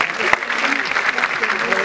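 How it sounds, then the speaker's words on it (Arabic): Sustained applause from an audience at a Moroccan cinema event, dense steady clapping filling the space with a sharp louder clap near the start, no pause throughout. "صفقوا عليهم صفقوا عليهم كاملين"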